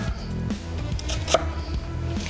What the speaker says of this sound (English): So that is how you quickly dice an onion.